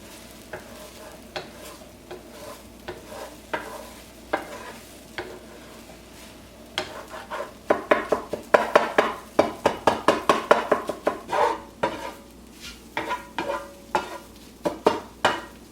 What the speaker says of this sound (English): And then I'm just gonna whisk this together.